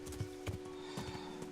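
A horse's hooves clip-clop in a slow, uneven walking rhythm, about six soft thuds on a hard surface in Kingdom Come: Deliverance, heard alone and fairly quiet with a faint steady tone beneath.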